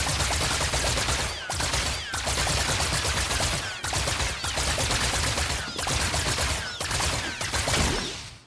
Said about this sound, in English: the tactical turrets is our first elemental power